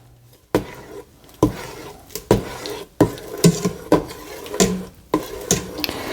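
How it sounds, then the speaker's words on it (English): A spoon stirs sugar into thick homemade applesauce in a pot, making rhythmic knocks and scrapes against the metal, about eight distinct strokes close up, with a wet, heavy squelch between them. "And we're going to stir that."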